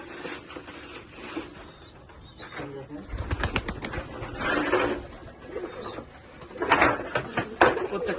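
Pigeons coo softly in the background while a person talks over them, with occasional rustling and fluttering nearby.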